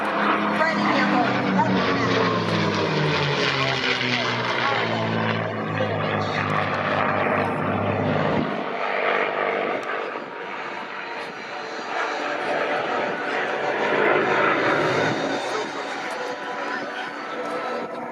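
A 1945 P-51 Mustang propeller fighter flies in a formation demonstration at an airshow, its engine droning loudly with a falling pitch as it passes, then fading into broad roar and crowd noise while a voice talks over it.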